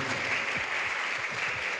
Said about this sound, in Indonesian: tepuk tangan dong buat teman-teman ini